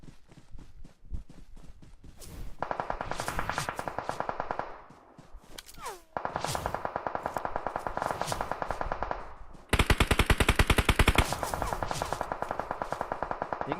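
Rapid automatic gunfire in a shooting video game, several long bursts of fast, evenly spaced shots separated by short pauses, fairly loud, with faint lighter clicks between them and no clear talk.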